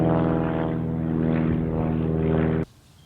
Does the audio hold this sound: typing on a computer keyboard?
no